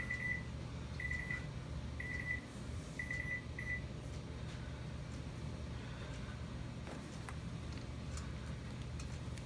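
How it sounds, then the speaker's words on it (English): An electronic beeper sounds five short beeps in quick succession, then falls quiet, leaving a low background hum with faint clicks. "It's gonna keep beeping if I let it go on."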